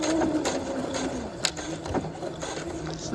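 Sewing machine backstitching on a half-scale jacket welt pocket, a close, steady mechanical whirr with rhythmic needle ticks and a brief clunk midway, with no talk over it.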